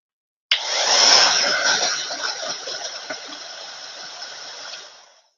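A hair dryer blowing hot air over a craft banner, switching on abruptly into a loud, steady whoosh close to the microphone, then cutting off after about five seconds.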